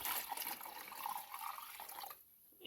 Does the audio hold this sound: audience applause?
no